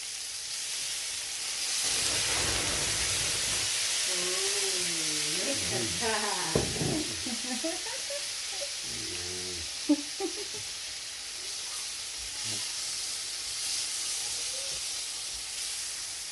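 Rump steak sizzles in a pan with butter and white wine, a steady loud hiss running throughout with brief spattering pops, while a voice speaks over the middle stretch.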